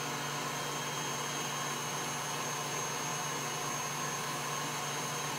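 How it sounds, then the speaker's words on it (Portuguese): An electric stand mixer beats red velvet cake batter with a steady, continuous whirring drone that holds at an even level throughout, close and alone with no talk. "Aqui eu vou diminuir a batedeira"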